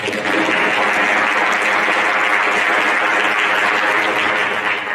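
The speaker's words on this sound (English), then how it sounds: "We can clap, it's okay." Commencement audience applauds steadily and fairly loud throughout at a fall graduation ceremony, a dense, even wash of clapping with no pauses.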